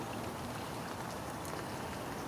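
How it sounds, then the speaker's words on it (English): Steady rain falls on and off during a winter carp fishing session, a dense, even patter close by and continuing without a break. "Still raining on and off"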